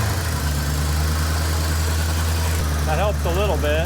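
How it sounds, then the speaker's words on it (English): A 1984 Corvette engine idles steadily with a low, constant hum after sitting parked for two decades, running throughout while someone speaks briefly over it near the end. "You just got to get it to idle down."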